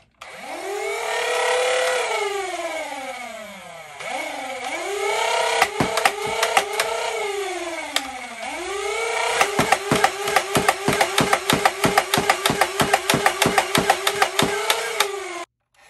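A Dart Zone Pro MK III foam dart blaster, being checked for a double-firing fault, whirs up its flywheel motors in rising and falling cycles, then fires a fast run of sharp clicking shots near the end.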